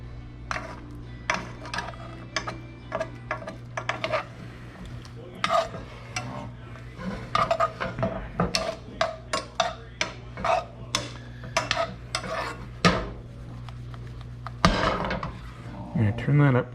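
Pheasant back being stirred and basted in a hot pan, with repeated spoon scrapes and clinks over a steady sizzle and a constant low hum, the strokes coming in an irregular rhythm close up.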